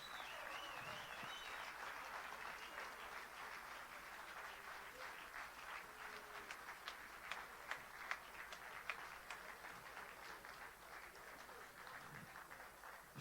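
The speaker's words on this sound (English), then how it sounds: "Come on, give us a proper round of applause." Audience applause at a talk by PLO Lumumba to South African men, a dense, steady wash of many hands clapping that runs the whole length at moderate, slightly distant level, with a few sharper claps standing out near the middle.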